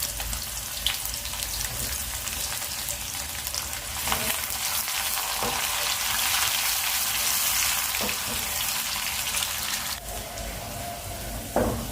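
Onions fry in hot oil for tempering dal, with a steady, bright sizzle throughout, punctuated by a few soft clinks of stirring.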